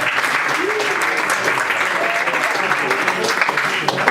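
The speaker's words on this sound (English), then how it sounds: "and a round of applause for Victor." Audience applause for a speaker at an evening talk event, a dense steady clapping from a crowd lasting the whole stretch, with faint voices mixed in.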